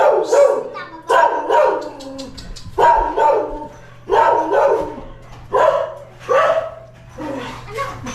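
A dog barks repeatedly in loud, closely spaced bursts, about eight barks with short pauses between them, nearby.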